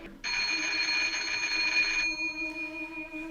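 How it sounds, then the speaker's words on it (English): An old telephone bell in the 1940 film Rebecca rings in one steady, bright trill lasting about two seconds, then its tone fades away. It is clear and fairly close, with faint room sound beneath. "Someone answer the phone"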